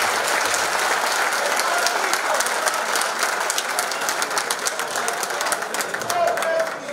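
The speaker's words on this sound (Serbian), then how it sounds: "Molim vas, veliki aplauz za ove prelepe dane." An audience at a formal assembly of a Bosnian sports federation applauds, a dense, loud wash of clapping that holds steady throughout and tapers slightly at the very end.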